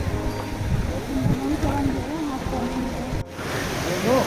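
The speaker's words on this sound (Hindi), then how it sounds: "ये ग्लेशियर पानी पिघलता हुआ आ रहा है" Glacier meltwater rushes along the Amarnath Yatra trail in the Himalayas, a steady broadband wash of flowing water heard close and continuous, with someone talking over it throughout.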